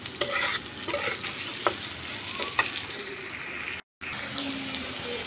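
Sizzling of chopped onion and chili frying in a wok, a continuous close crackle with occasional stirring clinks and a brief moment of silence near the end.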